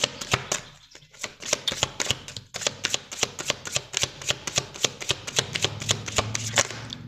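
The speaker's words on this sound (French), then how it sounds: "on va prendre l'oracle dans le cas et on va venir un petit peu... on va prendre 3 cartes" Oracle cards being shuffled by hand in a fast, even run of crisp riffling flicks close to the listener, with no talking.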